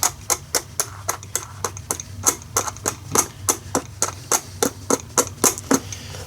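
A Princess Auto rotary tumbler running gives a steady train of sharp clicks and clunks, about three per second, close and fairly even in loudness, with a low hum underneath.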